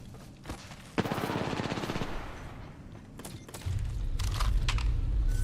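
Apex Legends gunfire, a sustained burst of rapid automatic shots for about a second, then scattered quieter shots and a heavier rumble building near the end.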